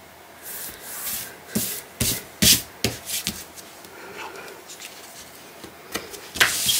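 Quarter-inch double-sided adhesive tape is run around the outside edges of paper for a scrapbook mini album, heard as close, uneven rubbing and scuffing strokes with light taps, with no talking.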